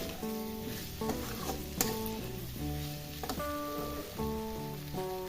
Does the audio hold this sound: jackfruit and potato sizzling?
yes